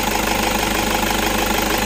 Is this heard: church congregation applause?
no